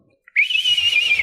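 A person whistles a single sustained, slightly wavering high note, imitating the whistle of a yowie, close and clear after a brief lead-in chirp.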